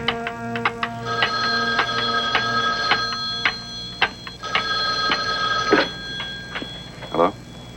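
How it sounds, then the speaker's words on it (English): A telephone rings repeatedly in an old radio detective drama, its bursts of bell ringing starting and stopping over several seconds, fairly loud and close, with brief voice sounds in between. "Then the phone rang."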